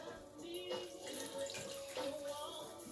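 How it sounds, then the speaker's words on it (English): Water is poured into a cornstarch slurry, giving a close, continuous splashing trickle for a few seconds with no talking. "From here, we're going to be adding in water into our slurry."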